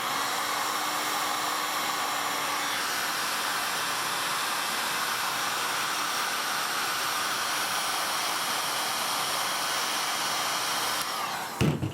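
A heat gun blows steadily for about eleven seconds as it shrinks cable sleeving on a PC wire, a loud constant airy roar that cuts off abruptly near the end.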